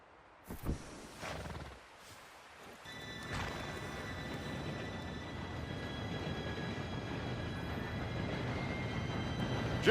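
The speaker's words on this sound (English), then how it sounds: "Train should be here any minute now." A steam train approaches in the Red Dead Redemption 2 video game: after a few quiet seconds with scattered thuds, a low rumble rises and holds steady, faint at first and then growing fuller.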